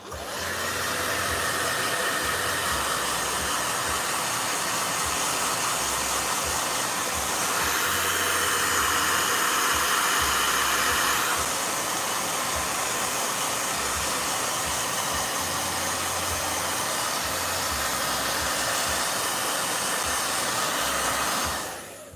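A blow dryer runs continuously with a loud, steady whooshing roar, its pitch shifting briefly midway as the setting changes.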